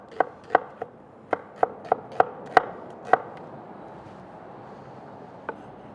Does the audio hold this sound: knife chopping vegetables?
yes